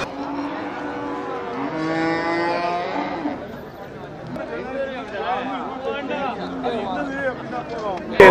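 Cattle lowing repeatedly at a busy livestock market in Melapalayam, long drawn moos rising and falling among a steady crowd hubbub, with people talking throughout.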